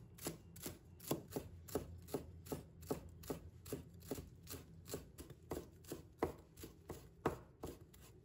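A knife chops fresh cilantro on a cutting board in a quick, even rhythm of soft thuds, about two or three strokes per second, close and quiet with no talking.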